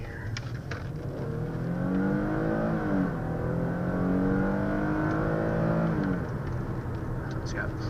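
A 2015 Ford Taurus Limited engine revs up and climbs steadily in pitch as the car accelerates hard from low speed, the rising drone sustained for several seconds before easing off.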